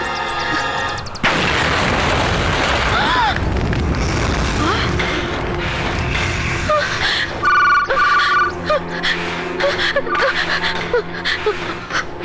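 A blast outside a house in a dubbed Marathi film: a sudden loud boom bursts in and rolls into a long, dense, rumbling roar. Ringing tones and dramatic music layer over it.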